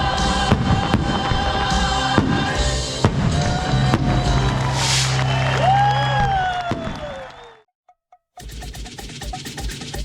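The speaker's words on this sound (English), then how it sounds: "everyone loves a fireworks show" Fireworks display bursting outdoors with sharp cracks and booms at a steady pace, rising whistles near the end, then a brief silence before more crackling explosions resume.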